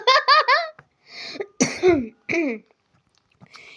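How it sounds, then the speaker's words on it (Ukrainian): A boy gives a few sharp, close coughs and throat-clearing bursts, mixed with voiced, laugh-like sounds and short pauses. "Извиняюсь, что во время кадра кашлянув."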